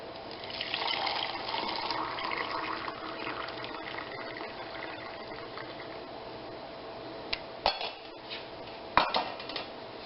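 Potato water is poured and strained into a jar, giving a soft, steady trickle of liquid with a few sharp clinks of a strainer or utensil against glass near the end. The sound is faint and close, with no talk.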